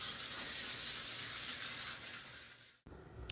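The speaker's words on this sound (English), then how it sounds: "I'm going to be using a 320 Grit Sandpaper" A bathroom vanity surface gets sanded by hand with 320 grit sandpaper, a close, steady hissing scrape lasting nearly three seconds before stopping abruptly, followed by a brief faint rustle.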